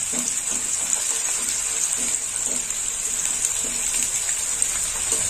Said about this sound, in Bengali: লাল লাল করে আলুটা ভাজা হবে।